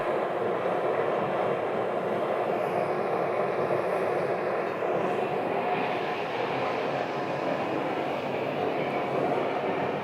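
Steady, loud broadband roar of an airplane flying over near Scottsdale, holding constant throughout with no other sounds over it.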